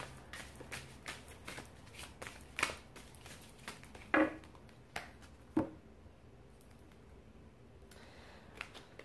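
Tarot cards shuffled for a card reading: a series of crisp, close riffling and slapping bursts at irregular intervals, some sharper clacks, fairly quiet, no talking.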